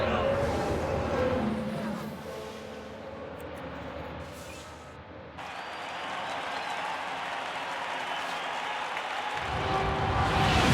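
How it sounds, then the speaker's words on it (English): In the F1 Manager 2022 racing game, a team's crowd cheers in a steady, broad roar that dips slightly midway, then swells again near the end. "The driver's team there cheering them on."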